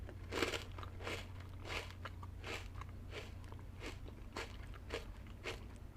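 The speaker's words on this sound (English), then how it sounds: "God, they're so crunchy." Lemon crisp cookies are bitten and chewed close to the mic, a run of about a dozen sharp, quiet crunches at an even pace.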